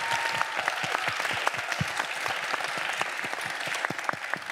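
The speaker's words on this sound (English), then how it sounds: "let me just ask us to give a round of applause for our wonderful speakers" Steady applause from a plenary audience at a city resilience conference, a dense run of hand claps that holds at an even level throughout with no talk over it.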